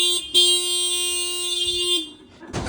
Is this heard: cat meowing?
no